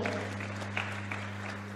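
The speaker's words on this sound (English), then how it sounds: "Will you clap for them?" An audience at an inter-school debate competition claps for an arriving school team, a brief steady patter of many hands heard from a distance over a constant low electrical hum.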